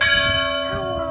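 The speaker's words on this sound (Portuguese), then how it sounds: "Olha, filha, é o sino." A church bell in Portugal rings out loud and close, one resonant strike with long, ringing overtones that hang and slowly decay.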